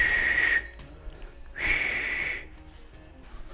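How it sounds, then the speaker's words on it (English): A pressure cooker whistles while lamb karahi cooks on high heat, two loud, steady, hissing toots, each under a second long, sounding close with a pause between them. "I'm going to cook it on here on high heat till it gets to about 3 whistles."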